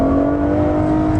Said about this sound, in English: you can drop down a couple of gears and give it full throttle for a fraction of a second